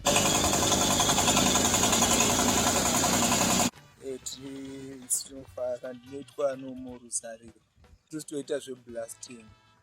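Loud, steady grinding roar of a borehole drilling rig boring into rock in search of water in Zimbabwe for several seconds, then it stops and people talk.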